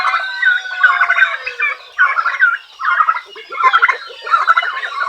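Newly hatched chicks and fowl in a coop chirp and cheep in dense, overlapping high peeps, loud and close, with a lower gobbling call joining toward the end.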